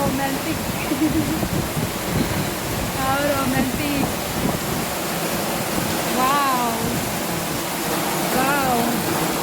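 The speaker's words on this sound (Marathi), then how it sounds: "असला मुसळधार पाऊस आहे चालू आमच्याकडे" Heavy monsoon rain pours down in a dense, steady roar, close and loud throughout, while a voice talks intermittently over it.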